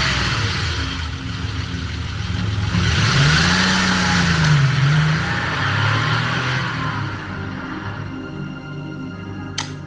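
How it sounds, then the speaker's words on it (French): A wedding car pulls away with its engine revving up and then settling, loud and close at first and easing off, with background hubbub and a short sharp click near the end. "laissez passer la voiture des mariés"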